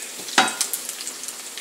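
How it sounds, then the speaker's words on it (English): Minced chicken sizzles and crackles as it browns in hot oil, with a stirring scrape and light popping, close and moderately loud. "now I'm frying this, I'm browning this up"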